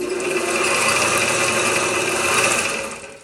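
A 100-year-old, 500-pound drill press runs with a steady mechanical whir and rattle, holding level before fading at the end; no voices.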